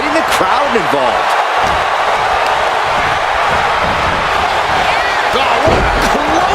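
A clothesline impact in the WWE 2K25 wrestling video game, a solid slam-like thud set against a constant roaring arena crowd, with a commentator's voice running over it.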